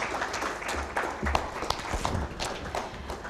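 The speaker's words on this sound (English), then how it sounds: "Another round of applause to the PSST." Audience applause at an economic summit, a steady wash of many hands clapping with a few sharper claps standing out, moderately loud and continuous throughout.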